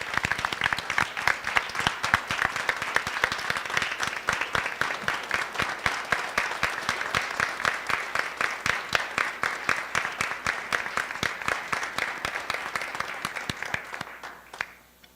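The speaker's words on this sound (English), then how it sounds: "So let's all please join in a round of applause for these wonderful people." Sustained round of applause at a school board of education meeting, a room of people clapping in a dense, even rhythm for about fifteen seconds before stopping abruptly.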